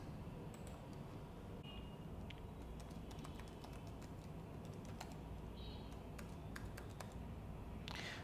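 Password being typed on a computer keyboard during a software login: a quiet, irregular run of soft key clicks and taps over faint steady background hiss, with no talk.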